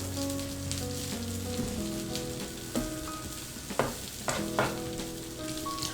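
Sausage and hash browns frying in a pan on a stovetop, a steady loud sizzle with occasional sharper crackles and scrapes as the food is turned.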